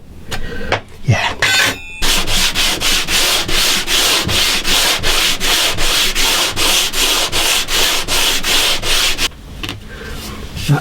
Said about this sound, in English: That takes all the coarse sanding out of here.